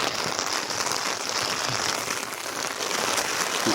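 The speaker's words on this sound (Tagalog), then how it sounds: "Ulan na." Steady, dense heavy rain pattering on surfaces in Daet, Philippines, a continuous wash of drops with no voices.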